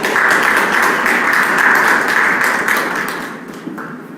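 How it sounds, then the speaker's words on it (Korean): A congregation applauding its church leader at a Sunday worship service, loud sustained clapping from many hands that slowly thins out toward the end. "우리 참 어머니께 우리 감사의 박수를 보내드리도록"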